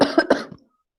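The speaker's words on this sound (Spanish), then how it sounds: "llegué con una tos como muy de alergia" A single close cough, two or three quick rough bursts, followed by silence.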